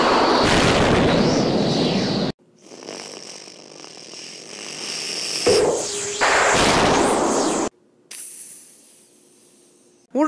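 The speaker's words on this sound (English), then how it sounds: "It looks like the explosion came from over here." Cartoon bomb explosions: loud bursts of hissing, roaring noise broken by sudden silent cuts, with a sharp burst near the middle and another at the end.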